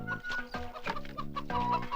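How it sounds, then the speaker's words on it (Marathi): Hen clucking in a farmyard scene, with repeated short clucks over a dense, continuous background that sounds like a film soundtrack or music bed. "अगं बाई माझी कोंबडी आणि माझ्या कोंबडीचा आवाज."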